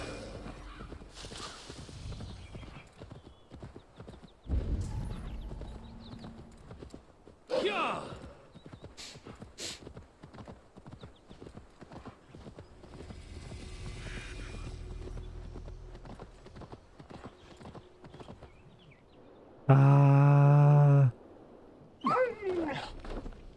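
Horse hooves clip-clopping in Assassin's Creed Valhalla, with a brief whinny-like burst near the end, mixed with game ambience and a dog nearby while someone talks over it.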